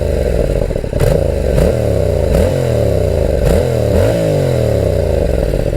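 Yamaha Tracer 7 motorcycle with a drilled, modified exhaust revving loud and close, with five sharp blips of the throttle spaced about a second apart over a rough, steady idle.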